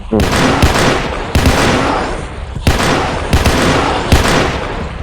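Dense rapid gunfire in the Roblox game PARACAM, several long loud automatic bursts that follow each other with brief breaks and fill the whole stretch.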